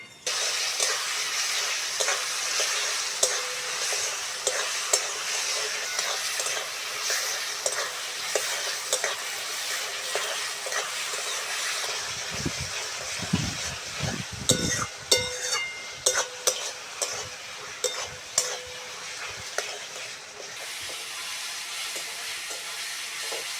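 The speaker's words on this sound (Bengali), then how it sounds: "পেঁয়াজ আর টমেটোটা ভালো করে ভেজে নিয়েছি" Onions and tomatoes frying in a pan for a fish curry, a steady sizzle with a stretch of scraping, clattering stirring in the middle, close and fairly quiet with no talk.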